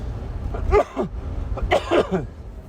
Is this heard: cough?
yes